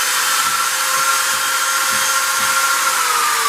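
A drill bit bores into a gun barrel, giving a steady, loud, continuous whir with a faint high whine running throughout and no voices.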